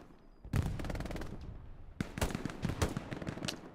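Rapid machine-gun bursts ring out in an 18v18 multiplayer WWII shooter match, two sustained volleys close and loud with sharp repeating cracks, separated by a brief lull and with no talk over them.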